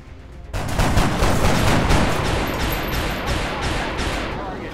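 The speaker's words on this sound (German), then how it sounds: "Drei Schüsse und einer nur trifft." Loud burst of video game gunfire in XCOM: Enemy Within, a sudden salvo of shots that starts abruptly and keeps rattling, slowly fading over several seconds, with no talking.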